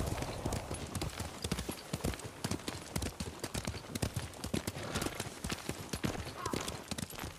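Horse hooves clip-clop in a steady, fairly brisk rhythm as a mount trots along in the video game Ghost of Tsushima, close and clear throughout.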